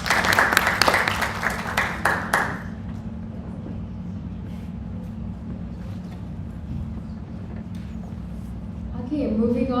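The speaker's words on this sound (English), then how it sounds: "Let's give her another round of applause." An audience at a university speaker series claps for a speaker in a short, dense burst that fades out after a few seconds, followed by room murmur and a voice speaking.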